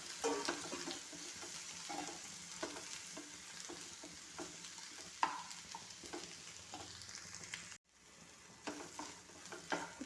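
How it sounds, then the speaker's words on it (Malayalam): Capsicum and tomato sautéing in oil in a pan, a steady close sizzle broken by scraping stirs, with a brief pause near the end before the frying resumes. "ഇനി ഇതിൻ്റെ കൂടെ തക്കാളിയും കൂടെ ഇട്ട് വഴറ്റിയെടുക്കാം."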